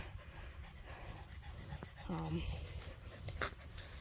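A dog pants quickly and softly outdoors in a state park after flooding, with a faint whimper among steady outdoor background noise and a person speaking nearby.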